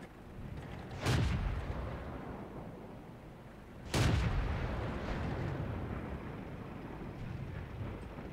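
The SU-122-44 tank destroyer's gun in World of Tanks fires two heavy booming shots about three seconds apart, each followed by a long rumbling decay over low background noise.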